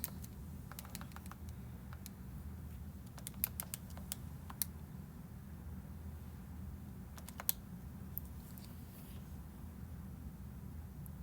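Computer keyboard keys clicking in short scattered bursts as numbers are typed in for an algebra calculation, faint and fairly close over a low steady background hum, with no voices.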